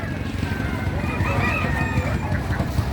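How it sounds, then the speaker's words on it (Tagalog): Roosters crowing and chickens clucking at a live chicken stall at the SM Baliwag market, with several birds calling loudly and close over a steady background of people talking. "Pwede ba yung manok na dilaw, ang balahibo?"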